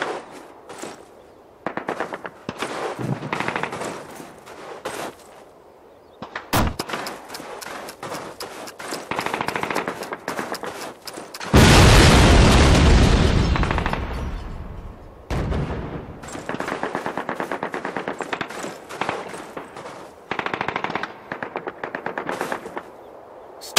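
A flak gun blows up in Call of Duty at a V-2 rocket site: a loud broadband blast that rumbles and decays over a few seconds, framed by bursts of rapid machine-gun fire and scattered gunshots before and after.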